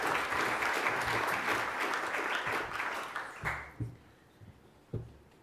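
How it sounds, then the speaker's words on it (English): Audience applause for Tracy at an in-person real estate conference, a steady dense patter of clapping from a crowd that thins out and fades, ending with a few scattered late claps. "So if I can get a round of applause for Tracy."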